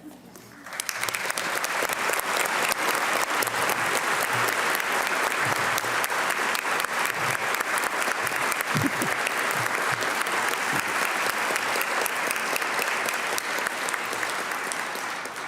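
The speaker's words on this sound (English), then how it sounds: "They should get applause." Sustained applause from the audience at a joint legislative session during a State of the State address, a dense, steady wash of many hands clapping that swells in quickly and holds for the full stretch.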